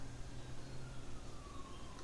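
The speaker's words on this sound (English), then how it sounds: "I can hear a siren in the distance." A faint siren wails far off beneath a steady wash of background noise.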